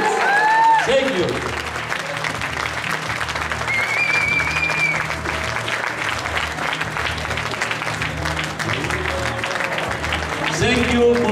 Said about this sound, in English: Applause for these athletes.